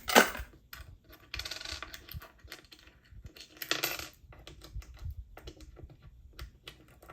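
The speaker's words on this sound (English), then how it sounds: "now let's put the coins back in under my miscellaneous one" Small metal coins clink and jingle close by as they are handled and slipped into a wallet pocket, with irregular bursts of clattering and soft shuffling in between.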